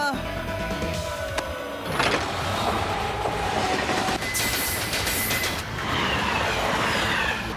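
A train picking up speed as it heads toward a tunnel, giving a steady, loud rumbling roar with rattling and a few high squeals, with faint voices in the background.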